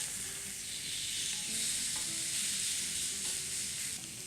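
Pork sizzles on an indoor grill pan, a quiet, even frying hiss with faint scraping as pieces are turned, no talking.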